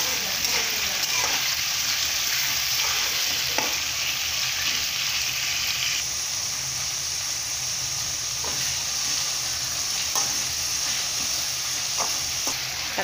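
Tomatoes and onions for rava upma sizzle steadily in a hot pan, a continuous close frying hiss with occasional soft clicks of stirring throughout.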